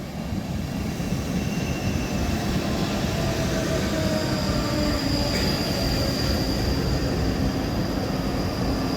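A six-carriage train runs through Edinburgh Gateway station with a steady, loud rumble of wheels and carriages. Faint squeals rise from the rails over the continuous roar.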